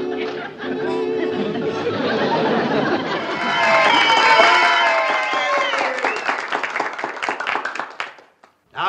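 A studio audience at a talent contest breaks into sustained applause, with clapping swelling to a dense peak before tapering into scattered claps and fading out.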